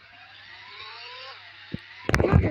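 A Supra car engine in a Roblox game hums low and steady, its pitch rising gently, followed by a sudden loud burst of clattering noise at the end, with no talking.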